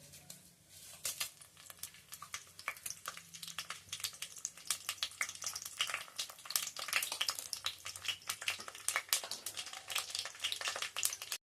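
Cumin seeds and dried red chillies frying in hot oil for a tempering, a steady crackling sizzle with dense popping spatters that build through the clip, close and alone with no talk.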